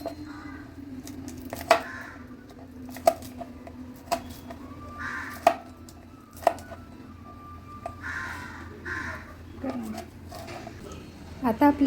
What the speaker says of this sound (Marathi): हिरवीगार कांद्याची पात स्वच्छ धुवून घ्या आणि बारीक चिरून घ्या